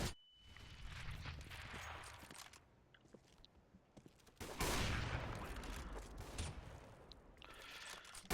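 Gunfire on the dust2 map in Counter-Strike: Global Offensive, with bursts of shots and crackling impacts in several clusters that are loud and close, mixed with clicks from weapon handling.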